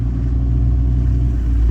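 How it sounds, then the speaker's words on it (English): A garbage truck rumbles on a residential street, a loud, steady low engine drone that holds for the whole short stretch. "Garbage day, all the garbage trucks are out."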